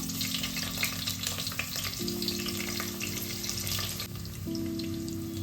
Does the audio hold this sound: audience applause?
no